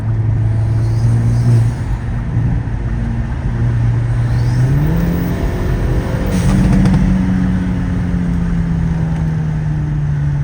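A Hyundai Elantra N engine, stage 2 tuned, hums steadily, then its pitch climbs as it revs up and holds at a higher, louder drone through the rest.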